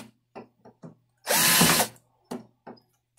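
A cordless screwdriver spins in a short burst of about half a second during an attempt at friction welding, with scattered clicks and knocks before and after it.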